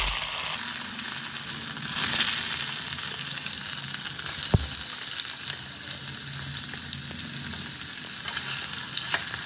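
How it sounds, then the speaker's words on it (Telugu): Paneer cubes frying in hot oil for paneer fried rice give a steady, close crackling sizzle that holds throughout, with one sharp knock partway through and no voices. "పన్నీర్ని ఆయిల్లోకి వేసుకొని మంచిగా ఫ్రై చేసుకోవాలి."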